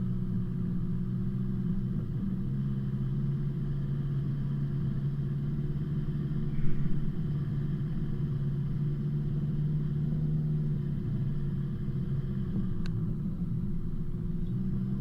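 An off-road vehicle's engine keeps a low, steady rumble while it crawls over washout humps on a remote track near Mt Sarah. The drone is continuous and fairly quiet, and no one speaks over it.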